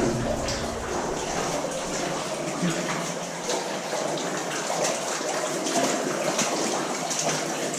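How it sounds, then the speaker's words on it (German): Water drips and trickles steadily through leaky rock inside an abandoned mine near Bratislava, a close, continuous wet splashing and running wash with scattered drops, no voices. "Überall tropft. Also es tropft ja nicht nur von oben. Es ist ja regelrecht. Es läuft ja."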